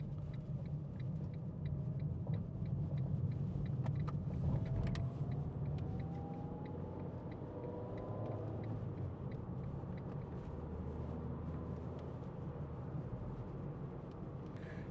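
Interior of a 2011 Ford Ka 1.2 Studio three-door hatchback cruising along a dual carriageway, a steady low engine and road rumble with mild tyre noise that stays even throughout, with no talking.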